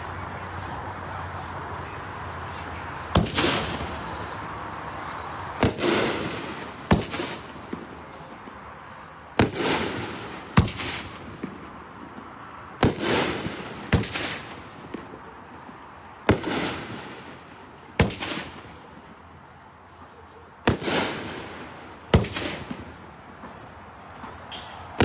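A King Neon 9-shot firework cake fires its shots one after another in an uneven rhythm, each launch a sharp thump followed by a crackling burst that trails off, loud and outdoors at a demo shoot, with no talk over it.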